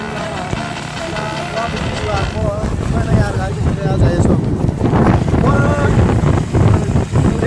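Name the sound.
motorcycle riding in light rain, wind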